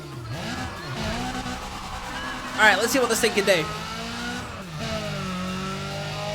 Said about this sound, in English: the S15's got the same engine sound